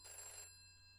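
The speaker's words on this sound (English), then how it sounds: "it's that cheesy sound effect of a 1980s style landline" An electronic 1980s-style landline telephone ring, one short burst of bright trilling tones that stops halfway through, leaving a faint hum.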